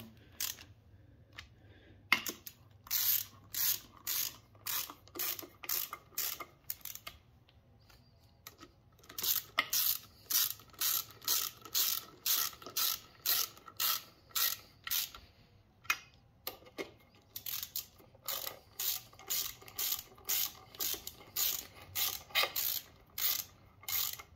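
Ratchet snugging down valve cover bolts on a 3800 engine, bursts of quick, crisp clicking strokes repeated in rapid runs with short pauses between bolts, close and distinct.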